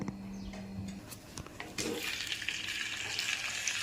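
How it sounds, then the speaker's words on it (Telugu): Fenugreek, mustard and cumin seeds spluttering in hot oil in a pan, with a steady crackling sizzle that swells and grows denser partway through, heard close with no talk. "కొంచెం మెంతండి, కొంచెం ఆవాలండి, కొంచెం జీలకర్ర అండి, అది చటపట్లాడాక"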